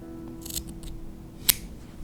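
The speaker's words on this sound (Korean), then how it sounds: "가위 가지고 오시고요. 자, 이 정도에서 한번 잘라볼게요." Scissors cut a strand of crochet yarn while a beginner's amigurumi rabbit is being made: one sharp, close snip after some soft handling rustles.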